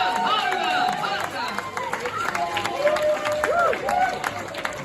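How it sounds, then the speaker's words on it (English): Audience applause at a priest's farewell speeches, moderate clapping mixed with crowd chatter and voices running over it throughout. "Please put your hands together."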